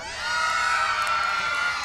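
A crowd of children at an outdoor amphitheater concert cheers and screams loudly and continuously, a dense sustained roar of high voices with no gaps.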